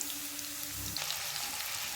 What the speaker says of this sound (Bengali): এবার ডিমটাকে ঢেলে নিয়ে ওই কড়াইতেই তেল দিয়ে আলুটা ভাজা বসিয়ে দিলাম